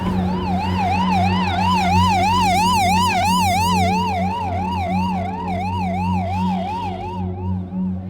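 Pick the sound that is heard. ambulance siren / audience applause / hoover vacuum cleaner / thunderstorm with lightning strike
ambulance siren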